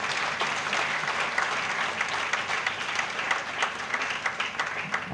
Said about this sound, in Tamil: உங்களுக்கு ஒரு பெரிய கைத்தட்டு வாங்கிட்டார்.